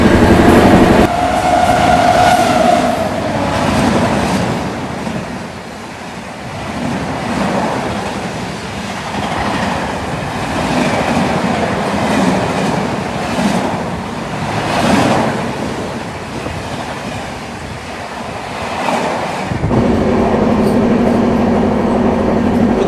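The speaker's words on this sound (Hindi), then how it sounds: "कितनी बढ़िया ही रफ्तार में दौड़ रही है हमारी ट्रेन इस टाइम" Uttar Sampark Kranti express train running at high speed on the Delhi to Katra route: a loud, steady rumble and rush of wheels on rails, with periodic rhythmic swells and a brief tonal hum near the end.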